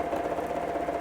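A sewing machine free-motion quilting the leaves of a poinsettia design hums steadily and close, its motor running as an even, continuous drone without pauses or speech.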